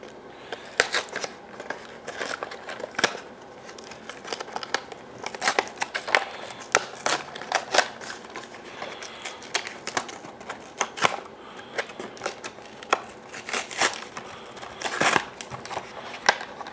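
Crinkling and tearing of packaging while a Sony condenser lavalier microphone is unboxed, with irregular crackles, rips and rustles throughout, close and fairly loud.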